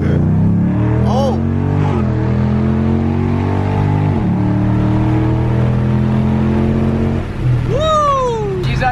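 A Ford Mustang with a 5.0 Coyote engine swap accelerates hard down a road, a loud, rising engine drone with gear-change dips, heard from inside the car; people exclaim over it near the end.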